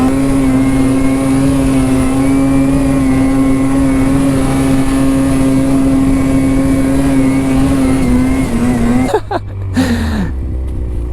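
A Ski-Doo or Polaris snowmobile blasting up a mogul trail, its engine holding a loud, steady high whine close by, then dropping off abruptly near the end as the note changes.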